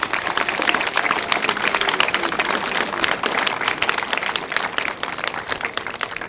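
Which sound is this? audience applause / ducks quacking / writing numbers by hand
audience applause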